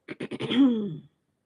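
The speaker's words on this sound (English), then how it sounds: "It's really healthy to clear your throat gently." Gentle throat clearing: a quick run of four short raspy pulses rolling into one longer, drawn-out clearing, close and alone with no talking.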